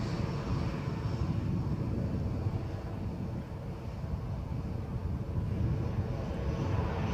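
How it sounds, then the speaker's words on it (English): Airplane passing near Edinburgh Airport during plane spotting, a broad steady engine roar with wind rumble that holds fairly loud throughout, swelling slightly toward the end. "I'm not keeping up with the plane"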